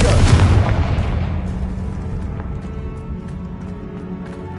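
A Confringo explosive spell blasts in the Hogwarts Legacy video game, one loud booming burst at the start that rolls off into a long fading rumble.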